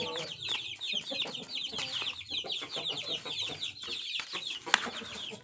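Free-range village chickens cluck busily and continuously at feeding time, a dense chatter of overlapping hen calls close by with brief scratchy noises mixed in.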